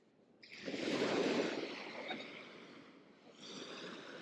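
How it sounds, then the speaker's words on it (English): Waves wash steadily onto a lakeside beach, a broad hissing surge that swells, ebbs briefly, then rises again, with light wind noise on the microphone and no talking. "So you guys are probably going to hear a lot of waves."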